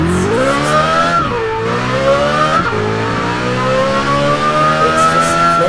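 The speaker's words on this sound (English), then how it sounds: "do a drift with the steering wheel now" A car engine revving hard in the racing game Test Drive Unlimited 2 during a drift, pitch climbing and dropping through several gear changes, with loud steady engine sound and faint tire squeal.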